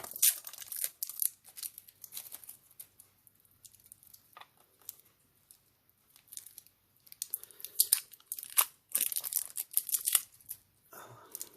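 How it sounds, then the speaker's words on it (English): Plastic wrap is peeled and torn off a Tissot PRC 200 silver quartz watch in crackly, irregular bursts and crinkles, close by, with quiet gaps between pulls. "So let me pull this plastic wrap around here."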